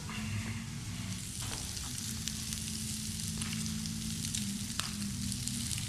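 Garlic sizzles steadily in a hot frying pan, a loud, continuous crackling hiss with occasional sharper pops.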